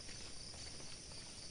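Crickets chirp in a dense, steady wash during a morning walk outdoors, faint and continuous with no voices.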